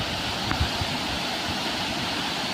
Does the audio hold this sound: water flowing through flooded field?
yes